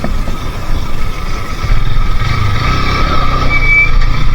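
A jeep approaches on a steep, narrow mountain trail near a drop, its engine a steady mid-pitched drone that grows slightly louder and closer partway through, with no talking.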